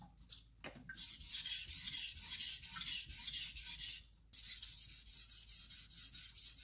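Knife blade drawn across a 1000-grit whetstone in steady, gentle gritty strokes, a close continuous scraping rasp with a brief pause partway through and no talking.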